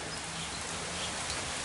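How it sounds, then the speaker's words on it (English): Steady rain falls outside in the evening, a continuous dense hiss of drops on surfaces with no other sounds, heard alone throughout. "Yep, it's raining out."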